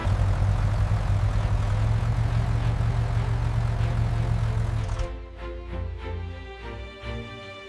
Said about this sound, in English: Time to drive the red tractor to the market.